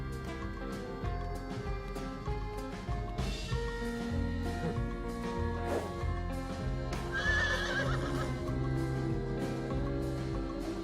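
An American mustang horse gives a shrill, wavering whinny partway through, heard over steady background music, with faint hoof clip-clop around it.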